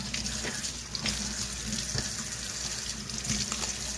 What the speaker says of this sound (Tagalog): hugasan na natin, pati yung itlog, hugasan natin.